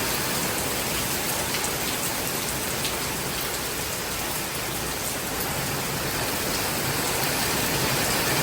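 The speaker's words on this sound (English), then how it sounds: "It has not rained this heavily in a long time." Heavy rain pours down outside, gushing off a roof in a dense, continuous roar that stays loud and unbroken throughout, with no voices.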